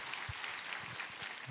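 A church congregation gives a short burst of applause during a Korean Sunday service, even, moderately distant clapping from many hands filling the sanctuary.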